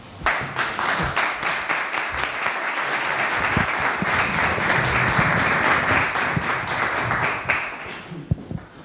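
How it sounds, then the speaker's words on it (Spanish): Audience at a book presentation in El Rubio applauds steadily, a dense wash of many hands clapping close by, with a few louder individual claps standing out and a brief pause near the end. "yo lo recibiría con un fuerte aplauso"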